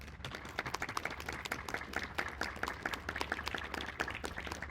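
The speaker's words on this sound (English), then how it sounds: "let us applaud definitely all those who've helped organize this event" Audience applause at an outdoor ceremony in Richmond, Virginia, marking Lafayette's return at Rocketts Landing: dense, steady clapping from a crowd that carries on at an even level throughout.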